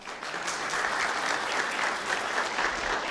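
An indoor audience gives sustained applause for attorney Michael, a dense, even clatter of many hands clapping at close range with no break.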